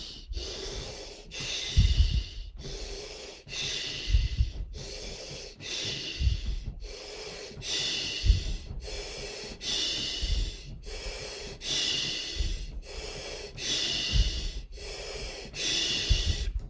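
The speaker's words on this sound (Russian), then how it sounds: "Дыхание через слог И, дыхание огня" A person does a fire-breathing exercise with forceful, rhythmic breaths. About a dozen sharp, hissing exhalations come at an even pace of roughly one every 1.3 seconds, close and loud, with no talking.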